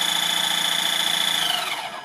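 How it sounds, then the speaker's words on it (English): The electric motor of an HG P408 RC Humvee toy truck, given throttle in neutral, whines at a high steady pitch, close by, then winds down toward the end. "so I'm giving it gas,"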